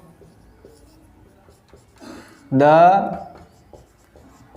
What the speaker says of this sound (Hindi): आगे नेक्स्ट सेंटेंस लिखता हूं मैं